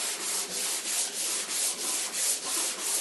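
Sanding block rubbed over primed car body panels with guide coat on a 1979 Ford Bronco, in a steady, even rhythm of back-and-forth strokes, each a soft hissing scrape, close and continuous with no talking.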